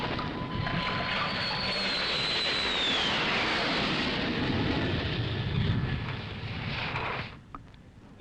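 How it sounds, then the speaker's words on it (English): Military planes roar overhead during the Vietnam War, a loud continuous rushing roar with a faint descending whine, sustained for several seconds before dropping away abruptly near the end. "the only sign of the Americans is the roar of planes overhead"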